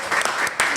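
A studio audience breaks into a brief burst of clapping, a short crackling spatter of hands lasting under a second, loud and close.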